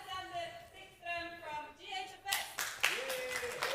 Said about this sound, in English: And the crowd goes crazy.